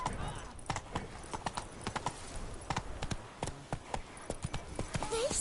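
The horse Roach gallops in The Witcher III: Blood and Wine, a rapid, rhythmic clip-clop of hooves close by, with a whinny near the end and a voice speaking over it.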